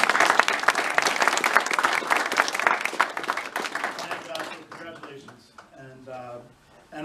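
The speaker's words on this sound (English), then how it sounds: "Can we give a round of applause?" Audience at a building dedication ceremony breaks into loud, dense applause that fills several seconds, then thins out and fades as a voice begins speaking.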